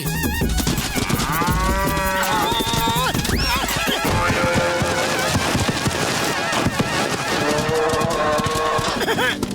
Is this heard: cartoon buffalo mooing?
yes